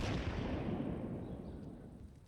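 Grenade explosions on the Inferno map in a Counter-Strike esports match, a single deep rumbling blast that decays over a couple of seconds, moderately distant and muffled.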